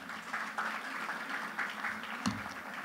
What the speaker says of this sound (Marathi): त्यांच्यासाठी पण आपण टाळ्या वाजवूया.